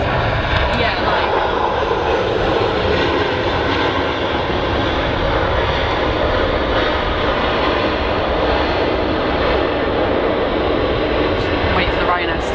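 A Ryanair airliner's jet engines at Manchester Airport roar loudly and continuously throughout, a broad, steady rumble and whine that drowns out everything else.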